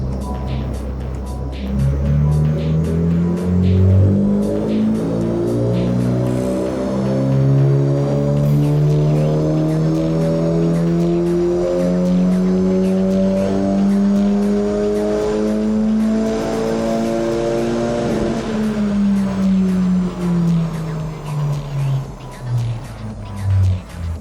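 Car engine on a dyno after a carbon intake manifold swap, revving hard through a long sustained pull with steadily rising pitch across the gears, loud and continuous, then dropping off near the end.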